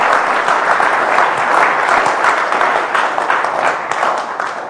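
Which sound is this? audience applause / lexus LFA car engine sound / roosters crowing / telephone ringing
audience applause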